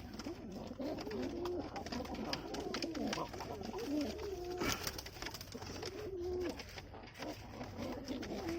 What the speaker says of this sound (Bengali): খুব সুন্দর কবুতর বাচ্চা